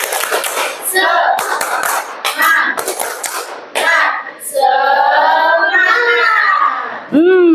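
A class of schoolchildren claps in quick rhythmic bursts for the 'tepuk semangat' cheer, then chants together loudly and close by, the young voices following the clapping.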